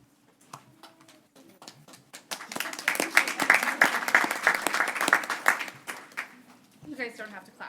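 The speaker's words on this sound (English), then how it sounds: "You guys don't have to clap." Audience applause at a state workforce development board meeting, a steady burst of many hands clapping that swells and holds for several seconds before tapering, with some murmuring voices underneath.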